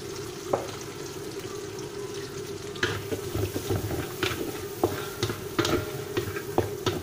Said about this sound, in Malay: kita goreng toge pula